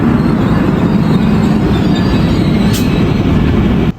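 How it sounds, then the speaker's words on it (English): An Amtrak train roars past at close range at Princeton Junction, a loud continuous rumble of wheels and rail noise lasting the whole stretch before cutting off abruptly. "Here we have an Amtrak number 133 from New York to Washington, D.C."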